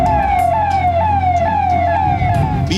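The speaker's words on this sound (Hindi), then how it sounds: "शहर में सायरन बजाती पुलिस की गाड़ियां" A police car siren wails in repeated rising-falling sweeps, loud and close, over a steady low vehicle rumble, on city streets in Saharanpur, India, during riots.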